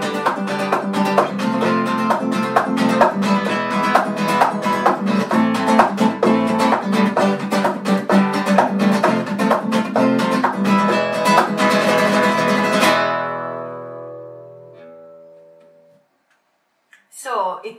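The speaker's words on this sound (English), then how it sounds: "another very typical flamenco technique is the rumba, and it sounds something like this." A flamenco guitar plays the rumba strumming technique with fast, rhythmic percussive strums and hits in a steady four-beat pattern, loud and close, before the chord rings out and fades, followed by a brief voice.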